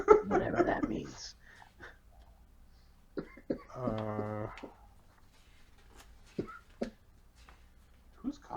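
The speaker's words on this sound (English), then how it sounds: "Who's coughing?" A person coughs at the start in a short burst of harsh, noisy coughs, close and fairly loud, followed by a voiced sound and scattered quiet clicks in a room.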